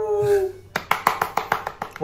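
A small group claps along in a casual office setting, a rapid run of about ten sharp, evenly spaced claps right after a sustained hummed or sung note fades.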